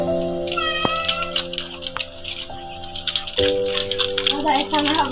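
A house cat meows in a few drawn-out, tonal cries close by, mixed with a rattling, clattering noise and a voice chattering over it.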